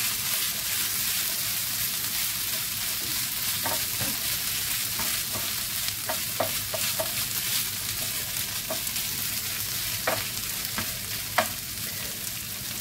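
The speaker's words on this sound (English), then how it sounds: "We are going to sizzle and it's going to be fabulous." Leftovers for a scraggy pie sizzle steadily in a hot pan, with scattered clicks and scrapes as a spatula presses the food down; the frying hiss is continuous and fairly close throughout.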